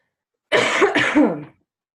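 Two harsh, chesty coughs in quick succession, close and loud, with silence before and after.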